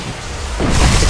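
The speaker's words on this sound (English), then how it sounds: "Explosion." A loud, close explosion booms with a sudden broadband burst midway through during a video game raid, filling the short moment alone.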